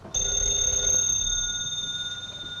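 A telephone bell rings steadily and fairly loudly in a 1938 radio mystery drama, with a sustained ringing tone that tapers slightly toward the end and no talk over it.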